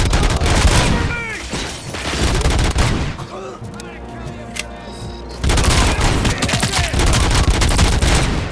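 Rapid bursts of gunfire from a weapon in Robocop: Rogue City, loud dense volleys with booming impacts, a brief lull of quieter combat noise, then another heavy burst of shots.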